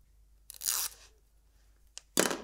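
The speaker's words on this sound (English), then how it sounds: "You just peel the sticker off the back." Backing paper is peeled off a vintage Dymo label sticker in two close, crisp tearing rips separated by a short pause, with a small tick between them in otherwise quiet surroundings.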